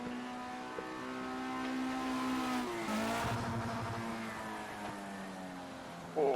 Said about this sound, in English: You could hear that car get onto the rev limiter.